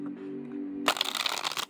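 Thin gold-gilded cardstock tarot cards shuffled in a quick riffling burst of papery flutter that starts abruptly after a low background hum, close and fairly loud.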